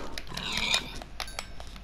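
A Minecraft pig gives a short oink over a faint background of game sounds, close and fairly quiet, with no talking.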